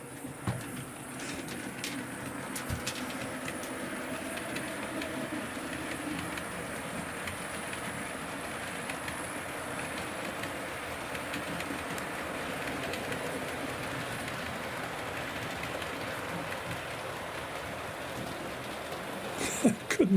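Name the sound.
model railway train running on track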